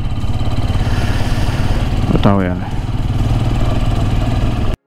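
Motorcycle engine idling steadily on a sunny, snowy road in Shimla, a continuous low rumble throughout with a brief rising pitch sweep partway; a voice speaks briefly over it.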